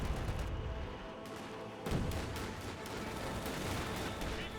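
Distant rifle and small-arms gunfire from Panzer Grenadiers attacking a rifleman squad in the WWII strategy game Company of Heroes 2, a steady dense crackle of shots with a heavier burst near the middle.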